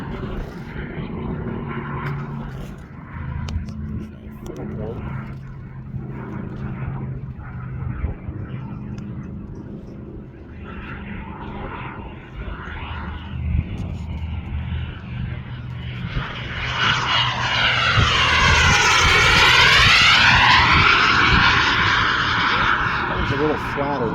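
A scale model airplane engine buzzes as the plane flies at a Scale Masters competition. Someone talks over the distant drone at first, then the engine swells loudly as the plane passes close, sweeping in pitch.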